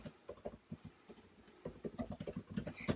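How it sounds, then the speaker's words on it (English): Typing a reply on a computer keyboard, a quick irregular run of close, soft key clicks and taps, clustering into faster bursts toward the end. "let me just type a reply to Sally as well."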